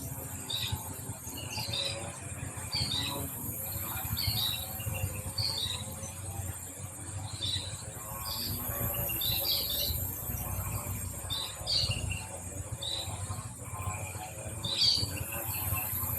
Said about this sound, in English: The birds are actually louder now.